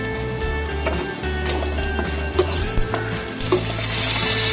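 Turmeric and a green chili sizzle in very hot oil while bitter gourd curry is being made, a steady close crackle with stirring clicks and light scraping throughout, and no talk.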